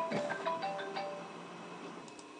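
A phone ringtone chimes in a quick run of melodic tones, fairly close but soft, then fades out.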